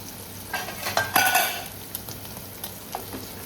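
Fried paneer lifted out of hot oil, a soft sizzle with a few metal scrapes and clinks of a utensil against the pan, busiest in the middle and settling to a quieter fry afterward.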